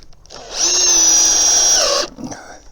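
A power drill drives a 3.5-inch deck screw into a garden arbor rafter: one loud, steady whine of about a second and a half that bogs down in pitch near the end, close and clear with no talk.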